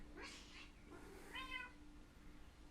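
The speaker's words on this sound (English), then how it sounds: "cats are fighting." Cats fighting, with drawn-out yowling meows and a rising caterwaul, heard faintly at a distance over a low steady hum.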